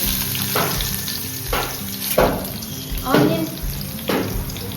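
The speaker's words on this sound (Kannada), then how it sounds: "ಆನಿಯನ್ ಫ್ರೈ ಆಗಬೇಕು." Chopped onion fries in hot oil with cumin, giving a close, continuous sizzle broken by several scraping strokes of a spoon moving it around the pan.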